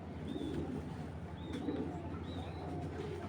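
Giribaz pigeons give soft, low cooing in a few spaced bursts, faint and somewhat distant against quiet background noise.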